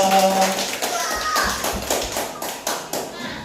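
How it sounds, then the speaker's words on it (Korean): Children at a Sunday school clap together at the close of a session, a run of sharp taps and claps with children's voices mixed in over the top. "우리 힘차게 박수하고 마치겠습니다"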